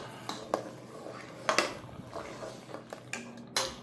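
Taho soy pudding mixture is stirred in a pot, with scattered light clinks and taps of a utensil against the container, faint and intermittent.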